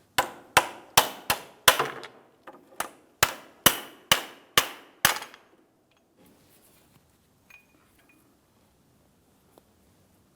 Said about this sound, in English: This is stuck in here, so I'm going to continue on tapping it out of place.